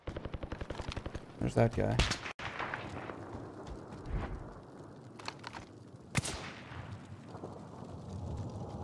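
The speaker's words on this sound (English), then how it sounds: "Who is shooting?" Gunfire from Call of Duty Warzone solos match: a burst of rapid shots early, then scattered single cracks and distant reports, with a voice speaking briefly among the shots.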